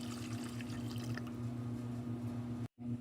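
Water pours in a steady, quiet stream for a few seconds against a low hum, then briefly cuts out and resumes.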